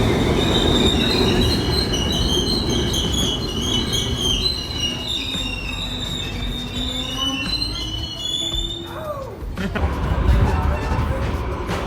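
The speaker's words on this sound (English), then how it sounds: "There's our train." A train rolls past with wheels squealing in long, high, shifting tones over a continuous loud rumble and rattle. The sound stays close and sustained the whole time.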